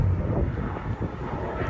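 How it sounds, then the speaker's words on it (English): An airplane passes overhead as a steady low roar that fades slightly, blended with wind buffeting the microphone, and no one speaks. "It's a plane coming."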